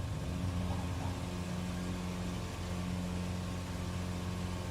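A small aircraft engine drones steadily during a takeoff in Microsoft Flight Simulator, a loud continuous tonal hum with strong low harmonics and no pauses.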